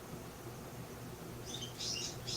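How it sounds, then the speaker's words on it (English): Birds chirping at night, a few short bright calls toward the end over a low steady background hum. "I could hear the birds too."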